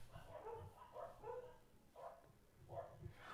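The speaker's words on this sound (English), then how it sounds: "My dogs are going crazy." Several dogs barking excitedly in a garage setting, a run of about six sharp barks and yips in an irregular rhythm, moderately near and fairly loud.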